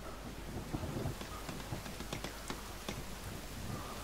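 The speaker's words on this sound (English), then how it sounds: "Yeah, rain time!" Steady rain pours down in the survival game The Forest, a dense hiss of falling drops with scattered sharper taps, continuous and close throughout.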